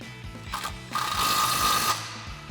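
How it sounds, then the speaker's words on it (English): An impact wrench with a 17mm socket tightens a suspension bolt on a Runner's upper control arm lift kit: a short burst, a pause, then a sustained rattling whir of about one second, near and loud. "So now we can go ahead and tighten down our bottom mounting bolt here with our 17mm socket on our impact."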